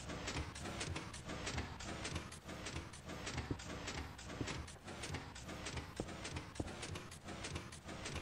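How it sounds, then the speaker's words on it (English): Sticky pistons on redstone in Minecraft clatter in a steady, rapid mechanical rhythm of dense clicking thumps that keep going throughout, loud and close with no talk over them. "You can run a couple sticky pistons."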